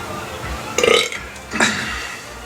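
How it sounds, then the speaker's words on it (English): Two loud, close burps after drinking milk, the first rough and drawn out, the second shorter, with quiet room noise around them. "Milk burps."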